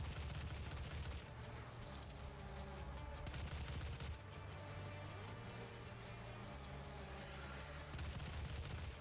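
Shotgun blasts in the Doom video game sound as dense, quiet, overlapping gunfire with an ongoing rumble, with no voices over it.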